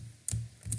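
A computer keyboard being typed on while entering Python code: two quick, close key clicks about half a second apart over a quiet background.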